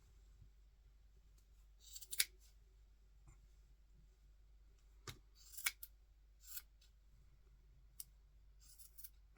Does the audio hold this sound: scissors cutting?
yes